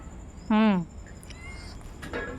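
A single clear cat meow, rising then falling, lasting under a second, followed by quiet room background.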